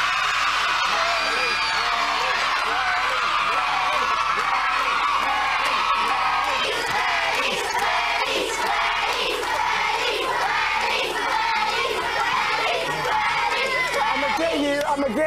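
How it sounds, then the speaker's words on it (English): Live studio audience at a children's TV show shouting their vote for a forfeit, a loud sustained roar of many young voices yelling and cheering together, filling the whole stretch at close, even volume. "Remember, if you want the forfeit that Richard faces to be the worms, shout worms"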